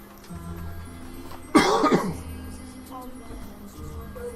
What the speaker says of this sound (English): if there's random coughing happening, I do again apologize